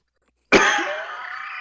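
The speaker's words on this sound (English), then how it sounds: "This time it's post nasal drip cough." A single harsh post-nasal drip cough bursts out abruptly and trails into a raspy, breathy tail, close and loud, with no talking around it.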